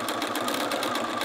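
A sewing machine stitches through the thick quilted layers of a jacket while sleeves are set and side seams sewn, giving a fast, steady mechanical whir, close and continuous, with no talking.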